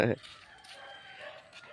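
A chicken gives a sharp, close squawk, followed by faint clucking and farmyard ambience in the background, in a village.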